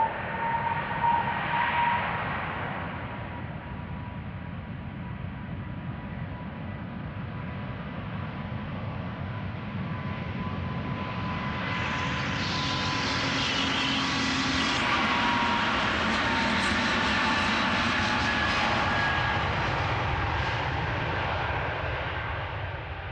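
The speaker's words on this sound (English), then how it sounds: "This is United Airlines Flight 71, 777-200 going to Newark." A United Airlines Boeing 777-200 jet departs Amsterdam Schiphol Airport, its engine roar filling the air for over twenty seconds, swelling louder and brighter toward the end as it passes close by, with no talk.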